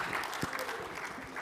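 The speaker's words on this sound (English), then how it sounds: "I love the clapping, that's it." Audience applause at a fintech conference session, a faint steady patter of many hands clapping throughout, with a voice briefly heard over it.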